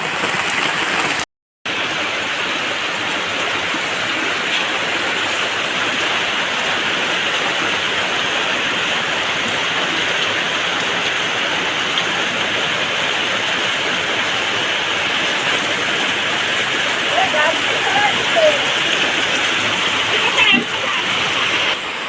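Floodwater rushes steadily past, sweeping sandals and other objects away, a dense continuous roar of flowing water with occasional splashes and a brief dropout near the start.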